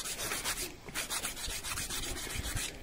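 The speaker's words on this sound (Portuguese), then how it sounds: "E eu vou lixando essa unha." A nail file rasps across a fingernail during a manicure cuticle-care session. Close, quick back-and-forth scraping strokes repeat in a steady rhythm without pause.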